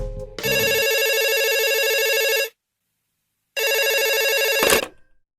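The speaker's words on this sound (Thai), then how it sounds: "อยู่ๆเสียงโทรศัพท์ของเธอก็ดังขึ้น" A telephone rings with a loud electronic tone in two long bursts separated by a second of silence, close and alone, with no speech.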